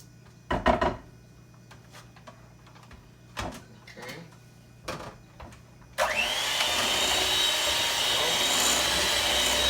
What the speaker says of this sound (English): I just do it with my hand mixer here.